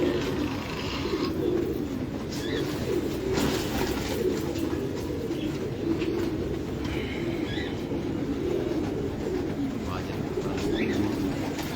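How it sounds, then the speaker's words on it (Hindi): Old Rampuri pigeons in a loft coo softly and repeatedly beneath a steady, dense background rumble, with no voices. "ओल्ड रामपुरी कबूतर हैं"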